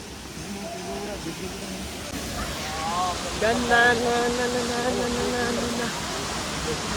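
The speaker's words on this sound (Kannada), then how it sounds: "ನಾವು ಬಂದಿರೋದು ಈಗ ಅಪ್ಸರ್ಕೊಂಡ ಫಾಲ್ಸು" Apsarakonda waterfall in a forested temple setting near Honnavar, heard as a steady broad rushing roar throughout, with a person talking over it in the second half.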